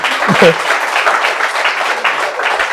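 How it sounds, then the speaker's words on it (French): Audience applause and cheering at a French-language church gathering, steady and fairly loud crowd clapping throughout. "Est-ce qu'on peut acclamer pour Damien?"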